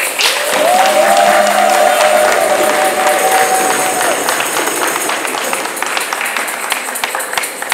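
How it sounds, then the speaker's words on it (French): Guests at a church wedding ceremony break into loud, sustained applause, with a raised voice or cheer sounding over the clapping early on before it continues steadily. "Ah, les applaudissements très forts."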